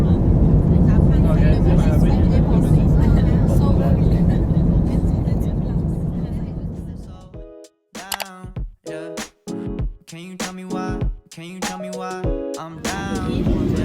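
An airliner takes off on a flight to Mexico with a loud, steady broadband cabin roar that fades after about seven seconds, then people talk over a quieter hum.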